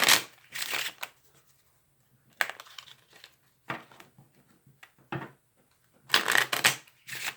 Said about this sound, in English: I don't like to talk over a riffle shuffle because it just makes a lot of racket on the tape